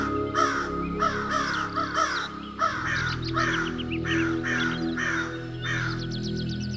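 Crows caw in a rapid series of loud, harsh calls, several overlapping at close range, with a steady hum underneath.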